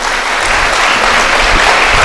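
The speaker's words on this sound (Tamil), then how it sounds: "இங்க இருக்கிற எல்லா பெண்களும் சேர்ந்து இங்க உள்ள ஆண்களுக்கு ஒரு பெரிய கைத்தட்டல் கொடுங்க" A Tamil comic-speech audience gives the men in the hall a big round of applause, steady dense clapping that fills the room at full volume for the whole stretch with no voices over it.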